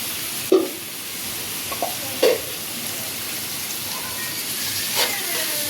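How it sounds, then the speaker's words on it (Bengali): Onion and garlic fry for taro leaves in a pan, giving a steady close sizzle with a few sharp clanks of a utensil against the pan. "এখন আমি পেঁয়াজ রসুন দিয়ে দিলাম কচু শাক রান্না করার জন্য"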